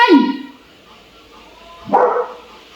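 Two separate, loud barks come from dogs indoors at Christmas, one at the very start and another about two seconds later, with a quiet gap between them.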